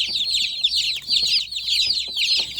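Meat bird chicks in a box give a constant, close, high-pitched chorus of cheeping and peeping, busy and overlapping, with faint rustling below.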